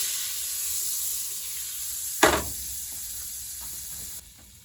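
Butter sizzles steadily in a hot pan with a broad hiss, interrupted by one sharp clatter partway through, then the sizzle continues more quietly; no talking.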